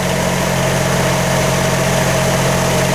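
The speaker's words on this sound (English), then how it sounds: "I'm running 44 amps off the generator head." Generator with a generator head under a 44-amp electrical load at 120 volts, droning loud and steady with a constant engine hum throughout.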